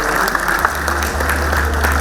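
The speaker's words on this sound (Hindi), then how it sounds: "जोरदार तालियां हो जाएं" Loud applause from an audience at a Yogi Adityanath speaking event, a dense steady patter of many hands clapping with a low rumble underneath.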